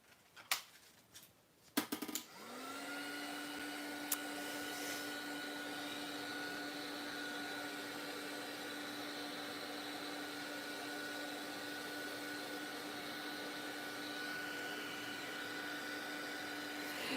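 A handheld heat dryer blows steadily over a mixed-media craft journal page, a continuous whirring hiss that starts after a few sharp clicks and handling knocks, then holds loud and even for the rest of the stretch.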